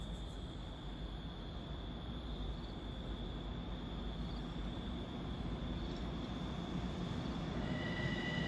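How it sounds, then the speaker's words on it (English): LIRR train 1663 rolls westbound past Cold Spring Harbor on a cool autumn day, a steady broad rumble of wheels on rail that swells slightly toward the end, heard from trackside with a faint high whine above. "approaching westbound at 5:52 is train 1663, Huntington to Grand Central"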